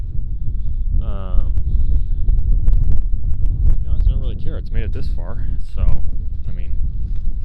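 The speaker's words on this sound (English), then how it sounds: "Wow, it's windy." Strong wind at Smith Rock State Park buffets the microphone with a constant low rumble throughout, while a person talks over it.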